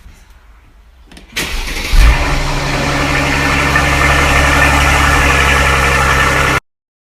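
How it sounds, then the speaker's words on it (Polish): A car engine cranks and catches, then settles into a loud, steady idle close to the microphone for several seconds before cutting off abruptly. "Pokażę Wam jeszcze dźwięk silnika"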